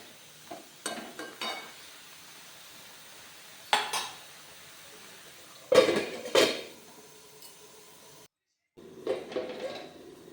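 A pot lid lifted and set down while bottle gourd cooks in a pot: a few separate metallic clanks and clatters close by, with brief quiet gaps between them.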